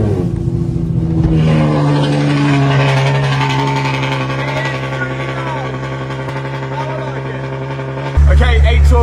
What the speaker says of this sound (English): Let's give you guys a cold start because this is a joke.